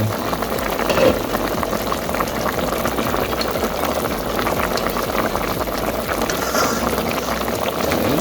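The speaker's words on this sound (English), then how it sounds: "And then I add in coconut milk." Rice and peas in coconut milk boil steadily in a pot, a continuous loud bubbling and simmering that fills the whole stretch with no talk over it.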